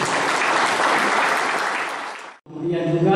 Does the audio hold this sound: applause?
yes